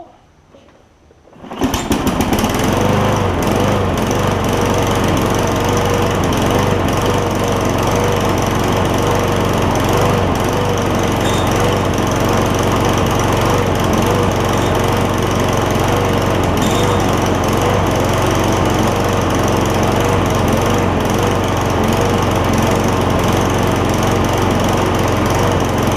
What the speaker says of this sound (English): So it is running.